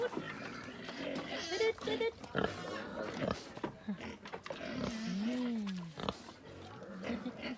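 Pigs at a village farm grunting and squealing while being fed a mix of field scraps, water and leftover rice, close and loud in bursts, with someone talking over them.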